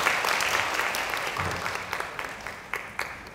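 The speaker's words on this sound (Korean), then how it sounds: "다시 한번 큰 박수 부탁드립니다." Audience applause at an anniversary event, a steady wash of many hands clapping that gradually thins out into scattered individual claps.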